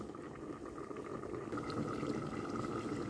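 A cauliflower and shrimp curry simmers over a medium flame in a village kitchen, a steady close bubbling and gentle boiling that holds evenly throughout with no talk.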